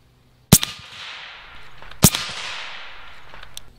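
Two sharp, loud cracks from an AEA Zeus big-bore air gun firing 275 grain slugs at a target, about 1.5 seconds apart, each followed by a short ringing decay and a faint distant impact, with no talk.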